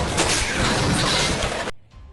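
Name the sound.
car crashing into another car, movie sound effect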